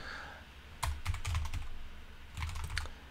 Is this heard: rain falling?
no